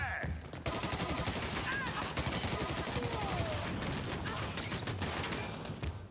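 Gunfire from a multiplayer shooter video game, heard as continuous rapid automatic fire that runs almost unbroken for several seconds, loud and close, with brief mechanical clicks mixed in.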